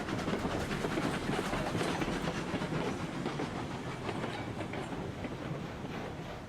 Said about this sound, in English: Had a few issues running trains through the freight yard